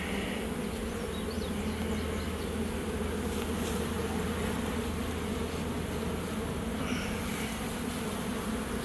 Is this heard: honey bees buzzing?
yes